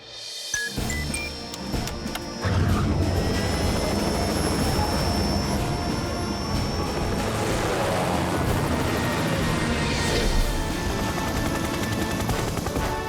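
Loud, continuous helicopter rotor and engine roar filling the whole stretch, starting abruptly after a short quieter moment, with no one talking.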